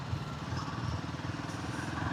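A Royal Enfield Himalayan with the Sherpa 450 engine thrums in a steady, low pulsing beat, close and moderately loud, with no talking over it.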